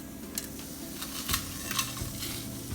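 Whole spices, green and black cardamom, sizzling in hot oil in a kadhai: a steady close crackle and hiss, with a few soft clinks of a spoon stirring.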